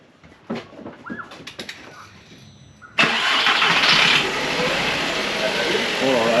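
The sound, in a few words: old engine starting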